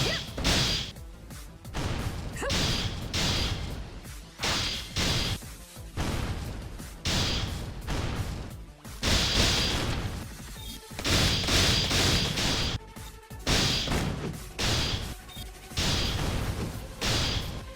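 Rose Tempest Burster in the Elsword video game attacks with a revolver, musket and hand cannons: loud, dense bursts of gunfire and heavy cannon blasts in rapid rhythmic volleys, with brief pauses between combos.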